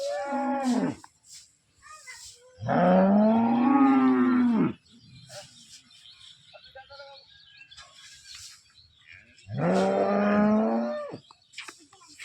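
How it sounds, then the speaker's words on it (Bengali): Cattle at a market loading area bellow in long, loud moos, three separate calls with quiet gaps and faint background noise between them. "চিল্লাচ্ছে গরুগুলা।"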